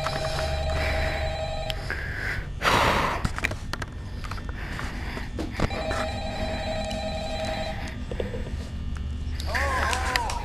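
An in-game telephone rings in Five Nights at Freddy's VR: Help Wanted, sounding as repeated trilling bursts separated by short pauses, fairly loud and close over a steady hum of background noise and clatter.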